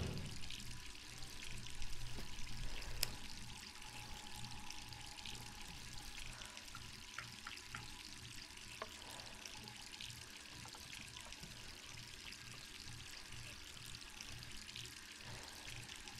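Water runs continuously from a tap in Resident Evil 3, a steady trickling hiss into a sink over a low droning game ambience, with a brief louder bump early on and no speech.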